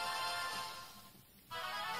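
A mobile phone notification chimes during a Pokémon Alpha Sapphire gaming session, a brief bright tone over a steady bed of game music, with a short dip before the sound resumes.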